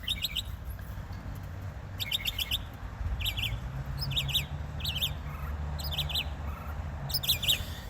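One bird gives a run of varied calls: quick bursts of sharp, high chirps repeat roughly every second, fairly close and clear over a low, steady background rumble, with no talking.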